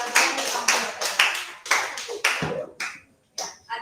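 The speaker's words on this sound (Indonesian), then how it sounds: "Tapi kita beri aplaus dulu" A class applauding during an online video meeting, a short burst of hand clapping in uneven claps that fades, briefly stops, then returns with a few final claps, close and clear.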